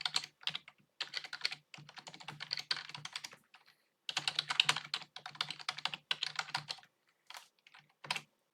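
Fast typing of C# code on a computer keyboard, two long bursts of rapid close keystrokes separated by a short pause, with no one talking.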